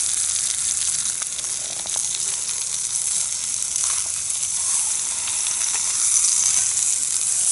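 A steak with gourmet-style seasoning sizzles in a pan on a stove, giving a loud, steady, crackling fry that never lets up, heard close and without speech.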